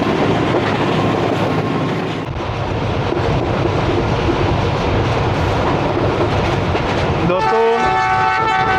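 The 122DN Ravi Express passenger train runs steadily on the line between Lahore and Nankana Sahib, a loud continuous rumble and wheel noise that carries throughout, shifting near the end into a brighter ringing, squealing tone.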